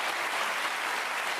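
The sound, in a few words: audience applause for Dani Lary and partner Valérie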